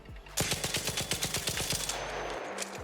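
The Rattler fires in ARC Raiders as one sustained automatic burst of evenly spaced, punchy shots, loud and close, lasting about two seconds before a brief mechanical tail.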